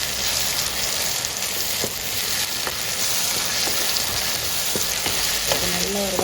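Ginger garlic paste fries in a pan for a prawn and drumstick curry, a steady loud sizzle with occasional pops and a light stirring scrape near the end.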